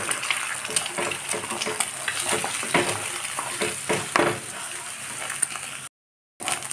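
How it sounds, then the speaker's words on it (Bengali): Scrambled eggs with a little salt fry in a pan for a dhaba-style village egg tarka. A steady, close sizzle fills the clip with scraping stir strokes throughout, then cuts to a brief silence near the end. "এবার এটা ভালো করে ভেজে নিয়ে আমি একটা জায়গায় তুলে নেব।"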